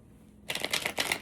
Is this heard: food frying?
no